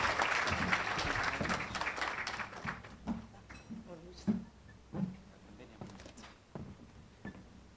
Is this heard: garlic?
no